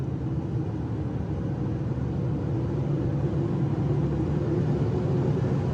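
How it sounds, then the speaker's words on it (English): Steady road roar from inside a Subaru Forester driving along with a worn rear wheel bearing at about 67,586 miles: a constant low rumble and hum with some wind noise, no speech. "Definitely hearing a whining noise, sounds like a wheel bearing."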